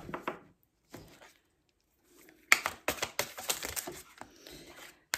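Quick bursts of papery riffling and soft clicks as cards are shuffled close up, with pauses between runs and one fuller flurry near the end.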